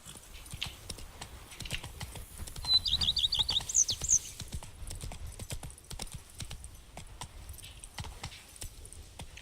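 Geralt's horse Roach in The Witcher 3: Blood and Wine trots along in a steady clip-clop rhythm of hooves, fairly close, with faint bright jingling of tack mixed in and no talking.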